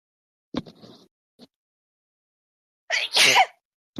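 A person sneezes during a tabletop role-playing game session, a sharp two-part burst near the end preceded by soft breathy sounds and small noises, close to the microphone with no talk over it.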